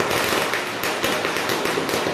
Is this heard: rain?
no